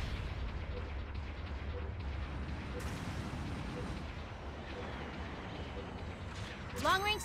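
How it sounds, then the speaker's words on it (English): Artillery barrage from supporting fire in a Gundam mobile-suit video game, a dense continuous low rumble of distant shelling under game voice callouts, with a brighter burst near the end. "Supporting fire incoming! Evacuate the target area!"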